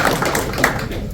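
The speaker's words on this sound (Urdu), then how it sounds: "تالیاں بجا دیجیے شاہ صاحب کے لیے" An audience at a welcome gathering applauds a guest speaker, with a short burst of loosely overlapping claps heard fairly close and loud.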